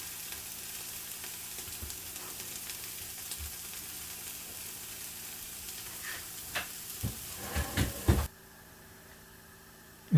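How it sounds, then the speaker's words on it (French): Burger buns toast in butter in a frying pan, a soft continuous sizzle with a few sharp knocks and scrapes near the end before the sound cuts to quiet. "Dans une autre poêle, je mets du beurre, puis je viens faire toaster mes pains buns."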